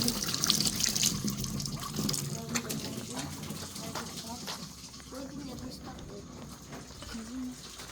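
A tap runs at a campsite in Baguio, pouring water into a container with a continuous splashing gush, strongest at first and easing off, while people talk nearby.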